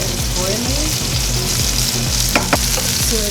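Chicken pieces sizzle and fry in a pan for Cajun chicken penne, a loud, dense, steady crackle with a couple of brief clinks near the end.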